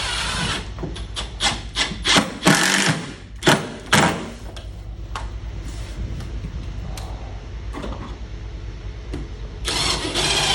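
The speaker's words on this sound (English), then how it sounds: "And I'm going to screw it in." A bracket screw being driven into a sheetrock or finished wall, giving a series of close, loud rasping and grinding bursts in the first half, then a steadier low friction noise, with another burst near the end.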